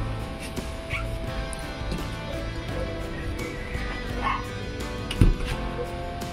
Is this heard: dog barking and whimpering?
yes